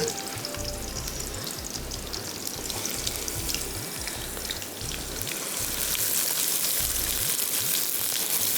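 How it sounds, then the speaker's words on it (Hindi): Onions sizzle and fry in hot oil as they brown, a steady crackling hiss that swells louder near the end, with occasional stirring and no talking. "अब तेल हमारा गर्म हो रहा है तो हम प्याज डाल के उसको ब्राउन करेंगे"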